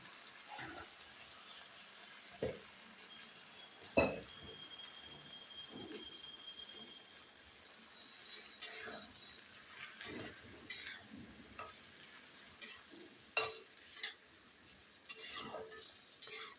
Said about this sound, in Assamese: এইবাৰ এইখিনি ঢালি দিম একেলগে মিক্স কৰি